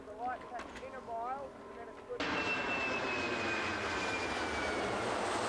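Aeroplanes fly over the finish of an ocean sailing race. Brief talking gives way to a sudden, loud, sustained engine roar that fills the scene.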